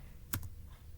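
A brief double click of computer keyboard keys as a command is typed, quiet and close against a faint steady hum, no voices.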